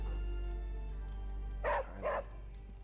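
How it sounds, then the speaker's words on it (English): A demon dog in the video game Midnight Suns barks twice in quick succession, two loud close yelps over a steady low game hum. "I can befriend the demon dog."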